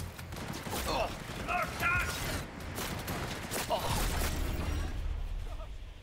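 Enemies open fire in Cyberpunk 2077: bursts of quick, crisp gunshots and mechanical clatter come in uneven volleys over several seconds, with quieter gaps between them.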